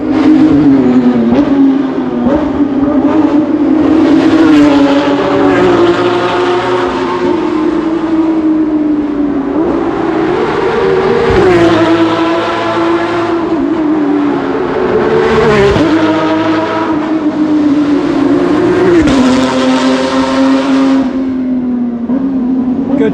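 Race cars at a street racing event on Bang Saen Beach, Thailand, roar past one after another, loud and close, engines droning and surging through repeated gear-change rises with a constant heavy wash of motor noise.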